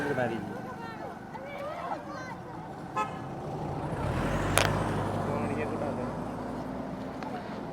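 A jeep draws closer on a road in the Batticaloa area, its engine rumble swelling over a background of chatter and a short horn toot partway through.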